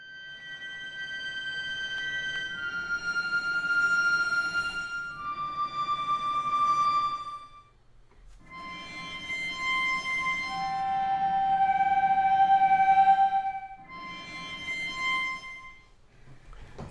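A nasal synthesized tone layered with Spitfire Frozen Strings cello harmonics sustains in long, loud, reedy chords with shifting high whistling partials, swelling and pausing in phrases of several seconds each, with no talking.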